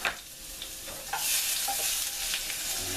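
Garlic sautéing lightly in flavorless canola oil in a pan, a soft, steady sizzle with faint crackles and occasional stirring scrapes, quiet and close.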